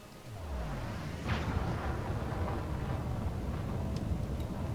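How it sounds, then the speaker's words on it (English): Radio-ad sound effect of a Top 10 Defender spaceship flying off: a dense, roaring whoosh with a deep rumble and a rising sweep, steady and fairly loud for several seconds, no voices. "That's the sound of another Top 10 Defender flying off the showroom floor here at Lakon"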